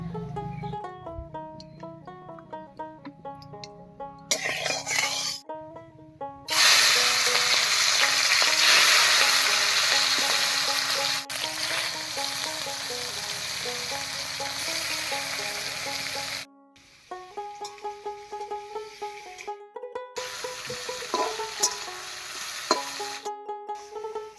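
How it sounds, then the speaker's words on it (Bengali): Prawns frying in mustard oil in a wok: a loud, dense sizzle and bubbling swells up midway and holds for several seconds, then cuts out, with melodic background music running throughout. "এবার মাছগুলো ভেজে নেব।"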